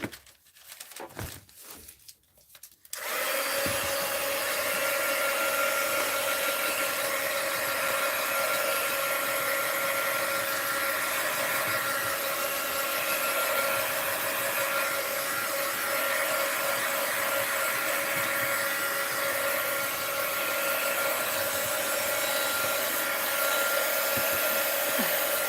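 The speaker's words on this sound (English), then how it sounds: "Let's dry it. Heat gun alert." A heat gun blows over a mixed-media art journal page, a loud steady whooshing roar that starts after a few seconds of brief rustling and then runs unbroken to the end.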